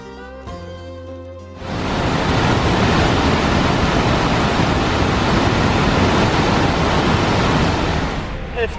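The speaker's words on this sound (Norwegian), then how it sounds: "Heftig mye vann i Glomma her." Heavy water surges through the Solbergfoss dam on the Glomma river in a loud, continuous broadband roar that starts abruptly after a brief musical intro and holds steady to the end.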